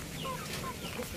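Indio Gigante hen giving a couple of soft clucks close by over a low outdoor hum, brief and alone.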